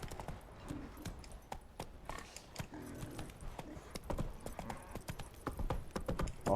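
Roach, a horse in The Witcher 3, trots with steady clip-clop hoofbeats that stay close and fairly loud throughout, with faint game ambience underneath and no talking.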